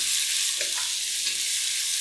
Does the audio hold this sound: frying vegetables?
yes